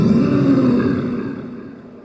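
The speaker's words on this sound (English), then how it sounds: "here you can hear a demo of the first roar" Roar sound effect built by merging instruments, a single loud, deep, sustained growling roar that slowly fades out, heard alone.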